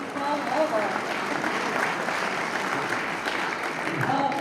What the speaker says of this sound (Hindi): एक बार जोरदार अपने लिए आप तालियां बजा लीजिए